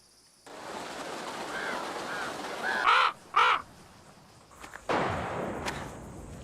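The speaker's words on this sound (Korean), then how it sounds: "까마귀가 끝까지 다가오자 겁먹은 폴린" A crow caws repeatedly as it draws near, two loud close calls standing out over a steady outdoor background, followed by a sudden burst of broadband noise and flapping.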